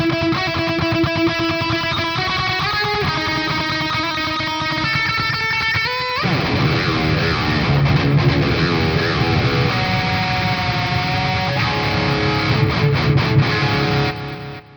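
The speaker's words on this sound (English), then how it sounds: "if you want you can also add a delay" Electric guitar played through a Valeton GP-5 amp-modelling preset with a delay effect added, a distorted tone whose sustained notes and chords ring on with echo trails, loud and continuous with no talk.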